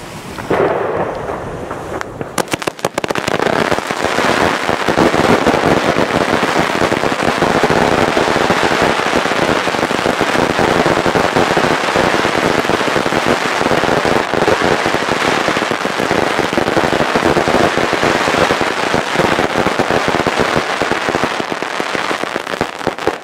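Snowblind S Polish firecrackers go off in a triple ignition, a dense, loud crackling barrage. It begins after a short pause and rattles on without a break for about twenty seconds.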